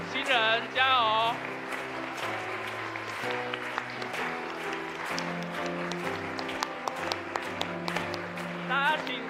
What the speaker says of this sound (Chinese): 给予更多的掌声